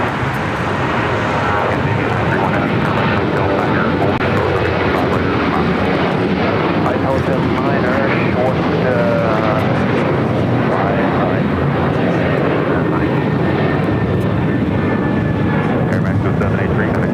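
An airliner takes off from runway 25 right on the south side of LAX with a loud, sustained broadband engine roar that fills the whole stretch. Voices are faintly present beneath the noise.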